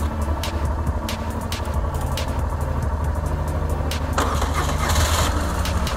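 A big motorcycle's engine starts and settles into a steady idle, with a steady low-pitched running sound and a brighter burst near the end, heard close up on a street in Málaga.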